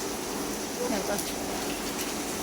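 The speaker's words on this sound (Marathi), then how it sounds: "किती मोठा पाऊस आहे" Heavy rain pours steadily outdoors near a house, a dense continuous hiss with splashing and gushing water, loud throughout with a voice talking over it.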